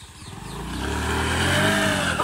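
A scooter engine revs up close, its pitch climbing and holding strong with a rough motor drone, building in loudness over a couple of seconds with no speech.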